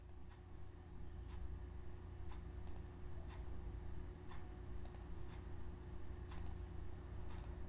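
Faint computer mouse clicks during a PowerPoint slide-editing session, a handful of sharp, scattered taps spaced a second or so apart over a steady low hum.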